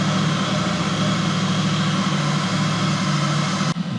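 A new 2023 Royal Enfield motorcycle idles just after a cold start, its exhaust giving a steady, loud, close rumble with a constant low drone that holds unbroken before dipping briefly at the very end.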